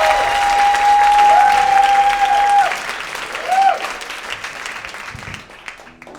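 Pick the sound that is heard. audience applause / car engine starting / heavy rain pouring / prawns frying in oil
audience applause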